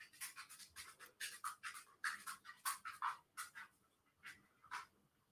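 A dog pants in quick rhythmic bursts close by, with a few soft whimpers mixed in, the breaths fading toward the end.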